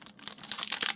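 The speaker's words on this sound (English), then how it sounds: "oh my god, I can't open this pack" A foil booster pack wrapper from a Karlov Manor collector box is crinkled and torn open up close, a quick run of sharp crackling, ripping bursts.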